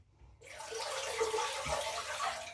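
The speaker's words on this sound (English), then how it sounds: "I rinse the razor" Razor rinsed under running tap water, a soft steady stream that starts abruptly and runs quietly to the end.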